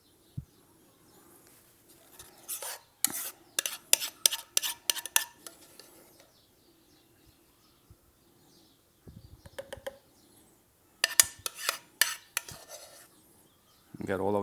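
Warm potato puree being spooned into a pressurized cream bottle, with bursts of sharp metallic clinks and scrapes of a spoon against the bottle and bowl, separated by quiet pauses and ending on a louder clatter.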